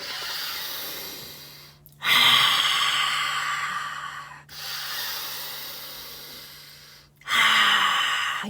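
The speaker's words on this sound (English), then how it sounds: "In through the nose, out through the mouth." Slow, deep breaths are drawn in through the nose and let out through the mouth, close and breathy, each inhale starting sharply and fading through a long hissing exhale, with no talking.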